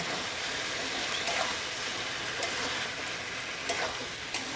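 Prawn curry with green jackfruit sizzles in a frying pan while a spatula stirs and scrapes through it, producing a dense continuous hiss with intermittent scraping clicks close by.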